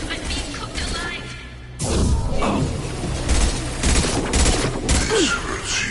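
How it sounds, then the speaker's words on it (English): Heavy gunshots boom and crash in the game Mass Effect 2, with several loud impacts after a quieter start, mixed with mechanical rumble and brief voices. "Firing a high-impact shot!"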